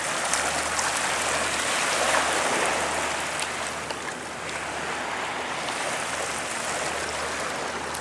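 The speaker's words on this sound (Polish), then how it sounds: "Ale wyrzuciło wodę, zobaczcie" Rhine river water surges and splashes against the bank in Duisburg, churned up by the wakes of passing barges, tour boats and a hydrofoil, a continuous rushing wash with a low engine rumble underneath.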